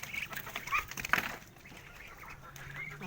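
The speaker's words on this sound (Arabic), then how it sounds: "الفراخ هتطلع دلوقتي" Free-range native chickens raised on a rooftop cluck in a few soft bursts as they come out, then the clucking fades to a faint, quiet background.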